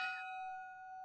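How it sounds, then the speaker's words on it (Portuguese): A single bell strike used as a podcast sound effect, a bright metallic ding that rings on with a clear sustained tone, heard alone. "Toca o sino"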